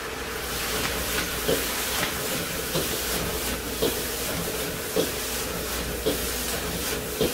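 Jajangmyeon ingredients stir-fry in a hot wok, giving a continuous loud hiss and sizzle, with regular tossing clatters recurring roughly every second.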